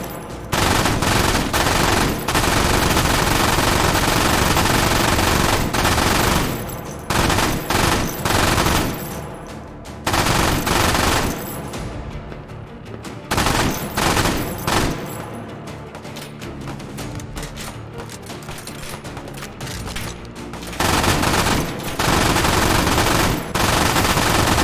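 An MG3 machine gun in the VR shooter H3VR fires long, loud, continuous automatic bursts, broken by short pauses, close and dominant throughout.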